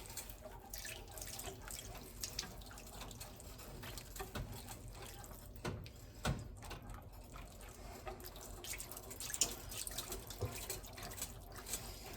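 Liquid being poured slowly into a pan while making turkey pot pie, a steady close trickle with scattered drips and small splashes running continuously.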